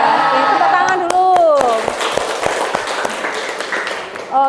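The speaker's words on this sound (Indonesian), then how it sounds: "tepuk tangan dulu" Students in a classroom give a brief round of applause after the teacher speaks. A few sharp, scattered claps start out under the voice, then a looser patter of hands follows and fades out.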